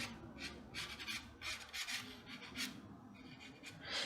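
Soft pastel rubbed and blended on paper while drawing an egg, giving a quiet, close, dry scratching in repeated short strokes with no talking.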